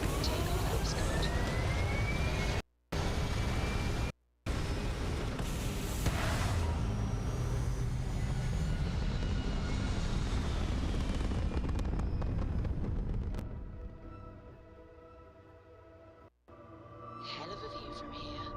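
A spaceship takes off in the video game Starfield with a loud, sustained rumbling roar of engines that swells and then drops away to a quieter hum, with a voice briefly heard over it.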